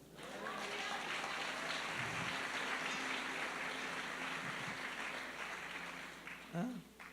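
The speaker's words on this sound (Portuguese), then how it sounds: "você pode aplaudir ao Senhor?" Church congregation applauding after a sermon by a bishop, a dense, steady wash of clapping that fills the room at moderate loudness before thinning out briefly near the end.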